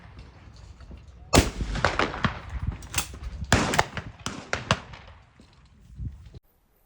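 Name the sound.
gunshots at shooting competition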